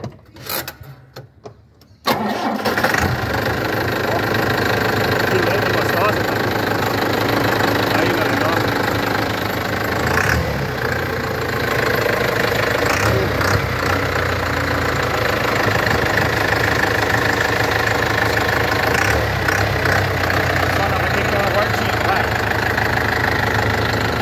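A restored 1949 Chevrolet 3100 pickup with a D20 Maxion engine cranks and catches after a brief quiet start, then settles into a steady, loud idle with a knocking rumble throughout.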